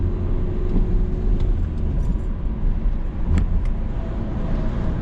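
A car accelerating through a gear change into third during a driving lesson, with steady engine and road rumble throughout the interior, a faint rising tone and a few brief clicks, no talk.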